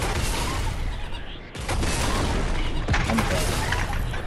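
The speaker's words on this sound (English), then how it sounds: "They just spamming the snowball launcher." In a video game, a snowball launcher fires rapidly and repeatedly, a dense barrage of loud bursts that drops briefly mid-way before resuming.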